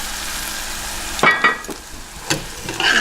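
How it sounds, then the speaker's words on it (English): Sugar and fish sauce caramel glaze bubbles and sizzles in a pan while a utensil stirs it, adding a few scraping strokes and soft knocks over the steady frying hiss, close and fairly loud. "Just keep stirring."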